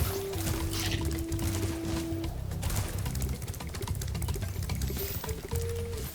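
A small acid waterfall in the video game Spyro 3 Reignited gives a steady pouring, trickling liquid rush, with faint game tones running beneath it.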